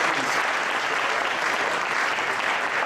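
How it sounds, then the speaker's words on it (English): Steady, dense applause from an audience at an Intel technology presentation at CeBIT 2013, a warm round of clapping that fills the space evenly and fairly loud throughout, with no voices heard over it. "Can I please give Alexander, a real warm round of applause and congratulations."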